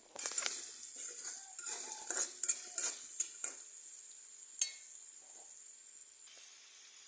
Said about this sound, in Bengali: তারপরে পেঁয়াজ রসুন দিয়ে ভালো করে ভেজে এখানে চ্যাপা শুটকিটাও ভেজে নিব